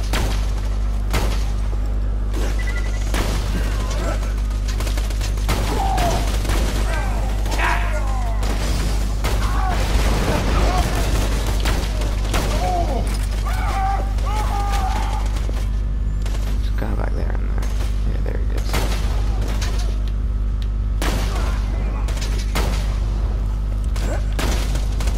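Infinity Pistol firing nonstop in Borderlands 2: a long run of sharp game gunshots, closely and unevenly spaced, over a constant low hum, with some booms and impacts mixed in.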